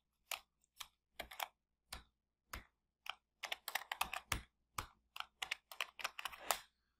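Computer keyboard typing in quick, irregular bursts of crisp, close clicks, pausing briefly between runs of keystrokes while entering a short list during RFIC circuit layout work.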